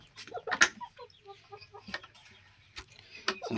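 Chickens of black fighter and desi mixed breeds clucking in short, scattered bursts, some sharp and close, with quieter murmuring in between.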